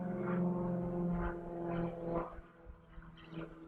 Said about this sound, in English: I'm just going to go ahead and film this plane.